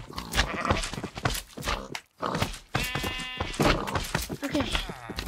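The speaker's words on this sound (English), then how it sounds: "We got sheep in." Sheep bleat inside a blocky farming video game, a harmonic bleat rising clearly around the middle and again near the end, surrounded by busy game sounds and a player talking over much of it.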